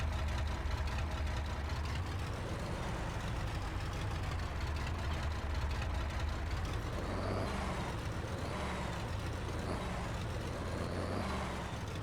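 A tractor in Farming Simulator 22 pulling a 10-foot cultivator that needs 150 horsepower, a steady low diesel engine drone with mechanical clatter, constant and fairly quiet throughout.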